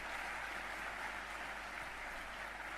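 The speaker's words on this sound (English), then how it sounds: "applause to our fitness trainers today." Audience applause at the Nintendo E3 2007 press conference, a steady, dense wash of clapping that holds at an even level for a few seconds, heard alone without talk.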